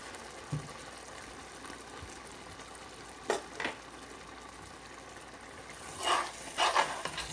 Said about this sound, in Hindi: इसको हम मिक्स कर लेंगे अच्छी तरह से मसाले में।